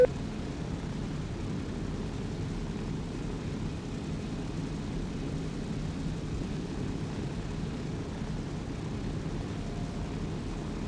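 Military aircraft in the ARMA 3 video game produces a steady, even low engine drone that fills the whole stretch without breaks or voices.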